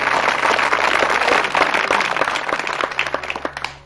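Studio audience at an Urdu quiz programme applauding a correct answer, a dense burst of clapping that thins out into scattered individual claps.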